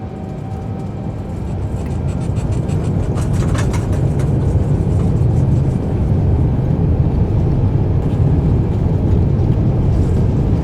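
Boeing 787 engines of an Emirates Dreamliner in Microsoft Flight Simulator spool up to takeoff thrust, a loud, steady broadband roar that builds and holds throughout with no talk.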